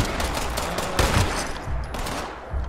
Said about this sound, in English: maybe for good measure, a couple more gunshots